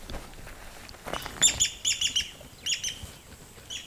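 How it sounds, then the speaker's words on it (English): Birds calling by a river in Zambia, a burst of sharp chirps and squawky calls after a quiet start, several overlapping voices at moderate distance, no talking. "Massive amounts of birds. Half of them I don't even see, I just can hear them."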